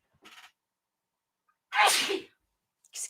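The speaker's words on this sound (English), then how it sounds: "Hold on, I'm going to sneeze." A single loud, close sneeze bursts out on its own, preceded by a faint sharp inhale and followed by a brief breathy aftersound.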